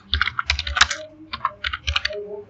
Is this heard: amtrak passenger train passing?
no